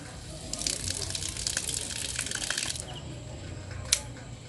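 A garden hose spray nozzle set to soaker mode gushes in a steady, close splash of water for a few seconds, then eases off, ending with a brief click.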